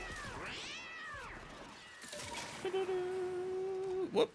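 In a video game, a cat meows several times, drawn-out arching cries followed by a steady held tone and a short final yowl, moderately close, with a faint voice in the background.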